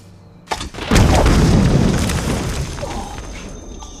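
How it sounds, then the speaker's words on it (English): A minor explosion goes off in a sudden deep boom, followed by a long rumbling roar that slowly fades over several seconds. "It's just a minor explosion."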